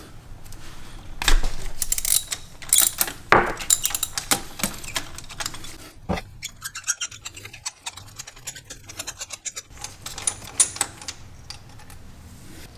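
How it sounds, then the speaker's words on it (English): A ratchet with a spark plug socket and extensions works a spark plug out of a 2.7L turbo four-cylinder Silverado or Sierra engine, giving bursts of rapid close metallic clicking separated by short pauses and scattered clanks. "now I can use my spark plug socket to go down in there"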